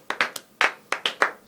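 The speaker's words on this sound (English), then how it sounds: "please give a warm round of applause to BC's being a jackass" Clapping at a live comedy and wrestling talk show, sharp irregular claps from a small number of people, close and with no talk.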